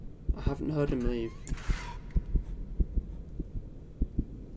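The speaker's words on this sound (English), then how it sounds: "The heartbeat's increasing, everything else is getting muffled." A heartbeat thuds in an even, steady pulse through a muffled horror-game scene in The Joy Of Creation: Story Mode, with a burst of voiced game sound and a brief hiss early on.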